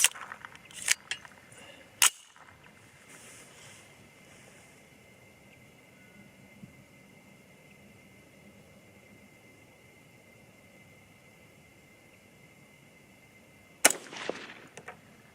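Outdoor rifle shots from a 6.5 Grendel or 6.8 SPC II at the range, a few sharp loud cracks near the start and one near the end, separated by a long stretch of quiet background hiss.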